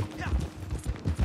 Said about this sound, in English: Damn, my horse is fast.